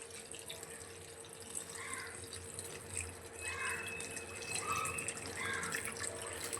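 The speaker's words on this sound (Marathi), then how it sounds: "आता आपण यामध्ये पाणी ऍड करणार आहोत." Water is poured into a pot of chickpeas already seasoned with salt, oil and a pinch of turmeric for Delhi-style chole, a faint, steady trickle and splash heard from a distance.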